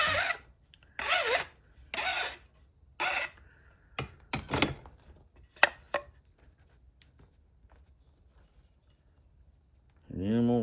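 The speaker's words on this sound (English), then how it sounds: "I'm gonna just get the burr off the point with the stick." A stick rubs a burr off the point of a tool in a series of short, evenly spaced scraping strokes, followed by a few sharper ticks and one last rasp after a quiet gap.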